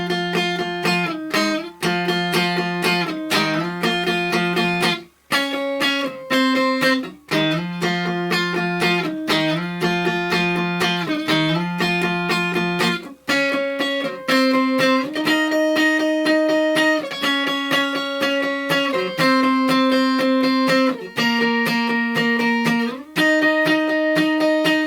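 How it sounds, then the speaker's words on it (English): Distorted electric guitar plays the solo from a song, a steady run of sustained, bending notes climbing and shifting pitch, loud and continuous with brief gaps, no voices. "So your solo sounds like this."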